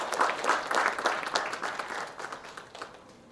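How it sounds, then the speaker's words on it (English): An awards-ceremony audience applauds as a woman is welcomed to the stage, a moderately distant crowd clapping steadily at first, then tapering and fading out within a few seconds. "Can we have a big round of applause as we welcome her to the stage?"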